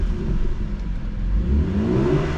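A BMW E89 Z4 35i M Sport DCT roadster engine revs and rumbles steadily, rising slightly in pitch near the end, loud and close with no talking.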